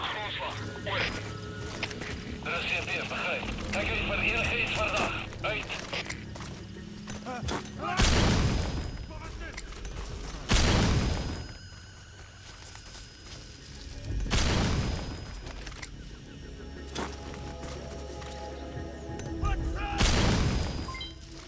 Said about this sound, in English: I'm chucking stun grenades. Whole lot of explosions went off